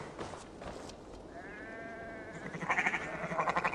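A sheep in Assassin's Creed Valhalla gives a drawn-out wavering bleat, followed by a louder pulsing bleat near the end, close and clear over faint ambient game sound.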